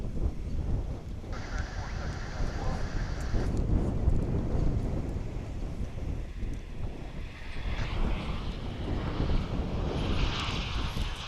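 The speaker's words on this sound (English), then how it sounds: "American Flight 2722 coming in from Reno, Nevada there." An American Airlines jet arriving at DFW airport passes with a broad, moderately loud engine rumble, wind buffeting the microphone and a brief whine rising and shifting as the plane moves past.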